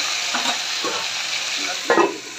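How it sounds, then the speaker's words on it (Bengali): Flat beans fry in a pan with a steady, close sizzle while a spoon stirs them in a few soft scraping strokes, the last one louder. "সিমগুলোরে নাড়াচাড়া দিয়ে দিব"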